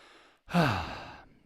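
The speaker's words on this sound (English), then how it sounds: "It's kind of a throaty exhale. In yoga, some yoga systems, they call it the falling out breath." A single throaty exhale of the yoga falling-out breath, a soft voiced sigh that drops in pitch and trails off over about a second, close and alone after a brief silence.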